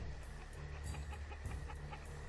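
Video game chickens cluck softly in short, scattered bursts over a low steady hum, faint and without any talking.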